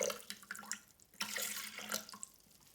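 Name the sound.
water poured into Thermomix bowl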